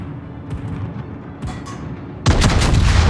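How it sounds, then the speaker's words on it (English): Warship naval guns fire in World of Warships, a couple of distant booms followed by a sudden loud, sustained blast of heavy salvo fire at close range. "The Andre Doria is going to shoot here, and he's going to do basically no damage."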